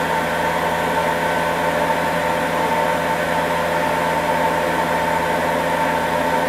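A Star SR20J CNC lathe from 2012, its spindle running at high speed around 8,000 RPM, a loud steady mechanical whir and hum with a constant tone and no pauses.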